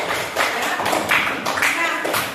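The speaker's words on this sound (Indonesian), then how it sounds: "tepuk tangan dulu untuk kita semua" A classroom of students claps hands in a few rhythmic bursts, with voices talking over the clapping.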